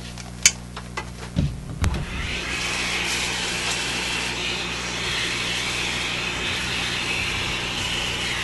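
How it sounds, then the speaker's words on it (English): Vacuum cleaner running steadily up close for several seconds while clearing magnetic filings on an old Electrohome music box radio workbench, preceded by a few sharp clicks and knocks. "vacuum here briefly."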